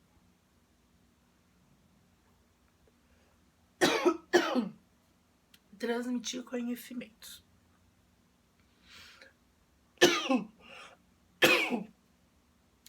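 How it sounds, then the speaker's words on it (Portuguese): A woman coughs several times in short, harsh bursts, two close together early on and two more near the end, with brief spoken words in between in a quiet room. "Desculpem a tosse, porque acabei falando muito"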